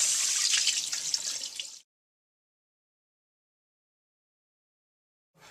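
Radish pieces rinsed under a running kitchen tap while cooking Tibetan noodle soup, a steady close splashing stream of water that cuts off abruptly, leaving silence before a faint sound returns at the end.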